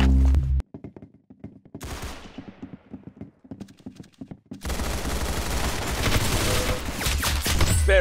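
Gunfire in the Roblox game Arsenal: a short loud blast, then scattered single shots and bursts, building into dense, continuous rapid firing over the second half.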